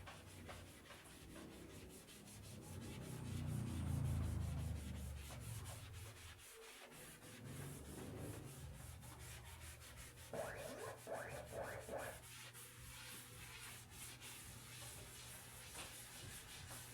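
Chalk drawings are scrubbed off a household wall in repeated rubbing strokes, a soft, close scratchy swishing that rises and falls, quiet overall.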